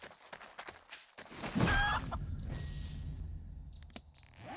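A chicken in 7 Days to Die gives a brief, sharp cluck-squawk, fairly close, after some footsteps and clicks, followed by a low ambient drone with no talk.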